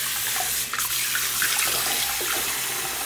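Water runs steadily from a tap at a public restroom sink while a child's hands are rinsed, a loud, even hiss that fills the whole stretch with no talk over it.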